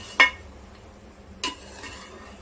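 A spoon scrapes and clinks twice against a pot of chicken curry being stirred, once sharply near the start and again more softly later, with a faint background hum and no talking.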